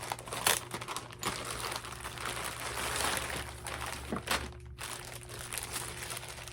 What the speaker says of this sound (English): this is the packaging that it came in. And I am going to open it up